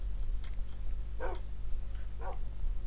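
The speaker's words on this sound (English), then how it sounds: "I did not want to give you my food, you stupid dog." A tamed wolf dog in the video game Minecraft gives two short, soft barks about a second apart over a loud, steady low background hum.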